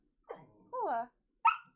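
A puppy barks and whimpers in a few short yelps nearby, indoors, with a brief pause between the calls.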